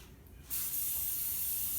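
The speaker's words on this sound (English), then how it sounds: "spray the bottom of your pan, because you don't want the cake to stick" Cooking spray hisses steadily from a can onto the bottom of a cake pan, one continuous close spray burst.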